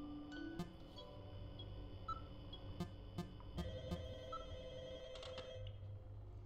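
A telephone in the horror video game Return to Freddy's rings faintly with repeated electronic bell tones and clicks over a low ambient drone, with no talking.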